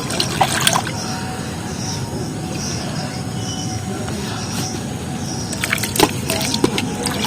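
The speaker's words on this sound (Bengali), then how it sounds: "আবারও প্লেটে ধুয়ে নিচ্ছি।" Jackfruit seeds are washed by hand in water on a plate, giving a steady, close sloshing and swishing with sporadic sharper clicks and knocks of seeds against the dish.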